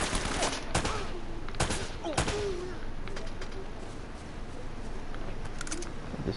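Bursts of AK rifle fire in an Uncharted game firefight, several sharp loud shots in quick succession over a busy ambient background, without speech.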